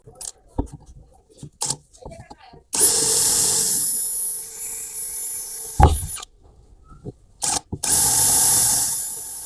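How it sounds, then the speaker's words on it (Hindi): A power drill bores into a streetlight fixture in loud bursts of whining motor and grinding, broken by pauses with clicks and handling noise. "नीचे इसमें हमने ड्रिल कर लिया।"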